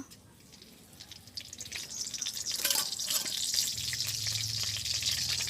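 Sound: bay leaf sizzling in hot oil for tempering

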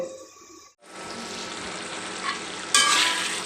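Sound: stirring chicken cooking with lentils in a pot

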